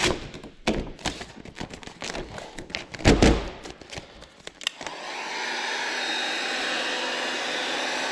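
A handheld heat gun blows a steady, airy roar while heating vinyl wrap on a pickup, following a run of scattered thumps, knocks and handling noises up close, with no talking.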